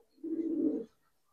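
A Star breed pigeon, a slender male, coos once in a single near, clear low call of about half a second, with no other sound around it.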